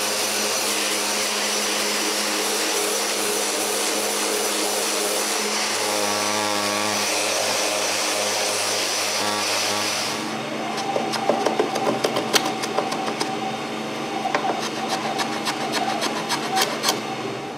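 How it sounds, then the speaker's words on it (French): Sanding a wooden case built for a Raspberry Pi computer: a steady, loud abrasive whir runs continuously, then turns rougher with scratchy bursts and scraping in the second half, with no voices. "je donne le sablage final."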